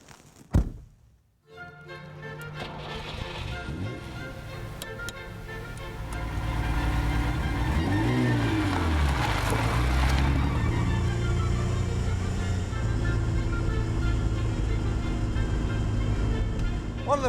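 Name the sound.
Ferrari Dino 246 GT sports car engine while driving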